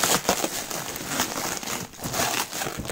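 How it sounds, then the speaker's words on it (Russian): Close, steady crinkling and rustling of a small parcel's packaging being torn open and handled, with irregular bursts of crackle throughout. "Давайте вскроем немного поменьше посылочку."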